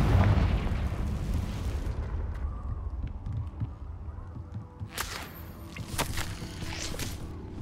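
A Confringo fire spell in the Hogwarts Legacy video game bursts with a heavy booming explosion at the start that rumbles and fades, followed by a few sharper crackling pops near the end.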